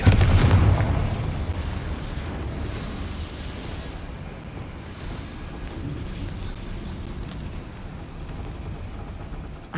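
A Confringo blasting spell goes off in the video game Hogwarts Legacy: a loud explosive burst at the start, then a rumbling, crackling tail that slowly settles into a steady low roar of game ambience.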